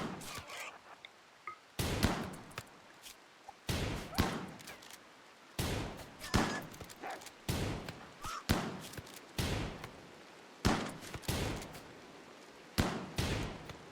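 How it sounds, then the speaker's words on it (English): Gunfire from weapons in the game RimWorld, heard as a string of sharp, loud single shots at irregular intervals of about a second or two, each ending in a short fading tail, with a low murmur between the shots. "They began to fire their weapons and killed the boghound before it could finish off Wilson"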